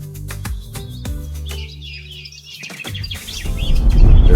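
African green pigeon calling with a run of loud, close whistled and chirping notes that shift into a dense burst of calls toward the end, with no talk.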